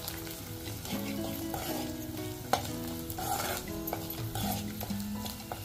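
Red chili powder and garlic roast in hot oil for a village-style double beans gravy, a close, steady sizzle broken by scraping stirs and the occasional clink of a spoon against the pan.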